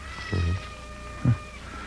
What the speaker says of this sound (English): There's her cat.